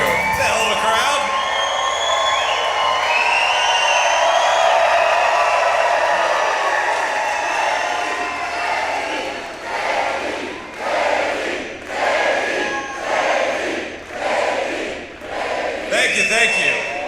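A large rally crowd in Holland, Michigan cheers and shouts loudly and steadily. The roar then breaks into rhythmic surging chants that swell and fade in regular waves.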